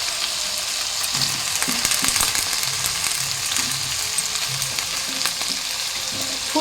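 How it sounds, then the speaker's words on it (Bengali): Cauliflower and potato fry with salt and turmeric in a pan, a steady close sizzle overlaid with intermittent scraping and stirring and no voices. "ফুলকপিটা দিয়ে তারপরে একবারে লবণ আর হলুদ দিয়ে ভাজা ভাজা করে নেব।"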